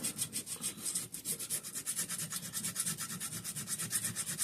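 Steady back-and-forth scraping and rubbing on the gasket mating surfaces of a Briggs and Stratton 5hp gear-reduction engine's carburetor, a close, continuous rasping rhythm of quick strokes with no talk.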